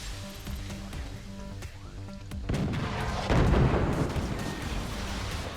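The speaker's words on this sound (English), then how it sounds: "my cannon! My cannon misfired again!" A cannon misfiring in the siege game Forts, heard as a burst of booming, crackling explosion noise that swells midway and lingers over a steady rumble of game sound effects, with no voices.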